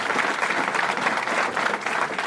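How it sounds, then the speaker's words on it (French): A debate audience breaks into dense, sustained applause at an interreligious debate, a continuous wash of clapping at even loudness for a couple of seconds with no speech over it. "on peut l'applaudir"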